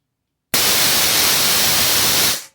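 Pancake air compressor starts abruptly and runs with a loud, steady broadband hiss and hum for about two seconds, then cuts off, with no talking.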